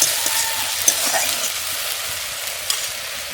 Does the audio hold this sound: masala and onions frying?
yes